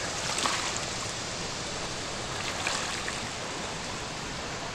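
The Vjosa, a mountain river in Albania, rushes in a steady, full roar of flowing water, constant and close, with no voices.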